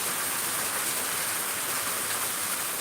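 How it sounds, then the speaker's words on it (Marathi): Heavy rain pours down steadily, a dense unbroken hiss of drops on surfaces with no pauses and no voices. "परत एकदा पावसानं जबरदस्त बॅटिंग चालू केलं आहे"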